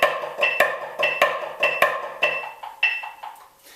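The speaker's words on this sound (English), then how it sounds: "the second grouping of the Flam accent grid sounds like this" A drum plays the second grouping of the flam accent grid: a steady triplet pattern of crisp flam strokes with regularly spaced accents, close and clear, fading on the last notes.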